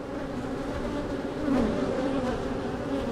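Bees swarm close around a beehive frame, a loud, unbroken buzzing drone that rises slightly partway through and stays thick and steady throughout.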